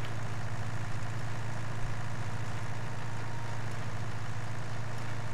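A tractor engine idles in Farming Simulator 19, a steady low rhythmic throb that carries on unchanged throughout at moderate loudness.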